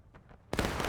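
A sharp, loud musket shot cracks out in a War of Rights battle at Burnside Bridge, preceded by a couple of faint distant pops.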